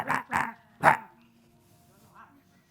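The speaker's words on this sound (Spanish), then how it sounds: "Él está más en el espíritu. Un perro." A dog barks three times in quick succession, loud and close, then the sound drops to a faint murmur of background voices.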